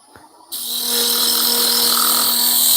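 Wood turning on a lathe, an oval skew chisel shaping an oval bird-shaped box: after a quiet half second the spinning piece and cutting tool start, settling into a loud, steady whir with a bright hissing cut that continues throughout.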